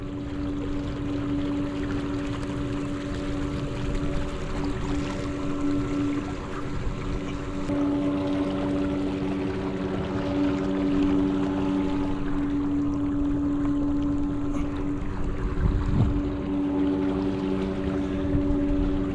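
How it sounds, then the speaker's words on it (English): An electric motor drives a fishing kayak down a river. A steady, close hum with tonal whine sits over rushing water, with no talking. "This feels pretty doggone quick right here, y'all. Look at that. I mean, this kayak is moving right now."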